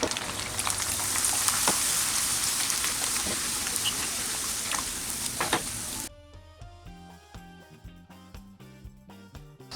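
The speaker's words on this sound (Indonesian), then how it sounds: "Pastikan minyak sudah benar-benar panas, lalu goreng dengan api sedang hingga kerupuk matang." Pete crackers fry in hot oil over medium heat, giving a loud, dense, crackling sizzle close up for about six seconds before music takes over.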